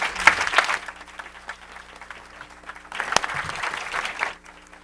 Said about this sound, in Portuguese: Aqui pedir uma salva de palmas para eles